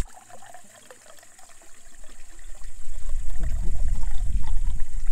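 Spring water trickling at a mountain source in the Chartreuse range, starting as a quiet dribble and building into a louder, close splashing flow.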